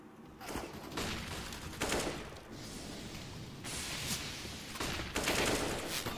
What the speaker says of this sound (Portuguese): Então vai chegar o Ash trocando tiro.